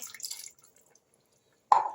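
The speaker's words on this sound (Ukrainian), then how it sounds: "Зараз відправляю 70 мл оцту" Vinegar, about 70 ml, poured into a simmering winter bean salad (lobio) lands as one short, close liquid splash after a near-silent stretch, preceded by faint kitchen rustling.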